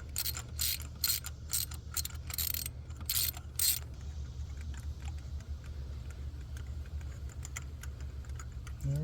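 A ratchet working loose a heavily corroded spark plug from a 2017 Honda CR-V 1.5L turbo, a burst of rapid clicking pawl strokes in the first few seconds, then a steady low hum with faint scattered ticks.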